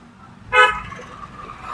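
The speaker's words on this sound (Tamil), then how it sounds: "ஹார்ன் அடிங்க." During a driving lesson, a single short car horn toot sounds clearly over the low hum of the car interior and road noise, then the cabin drones on.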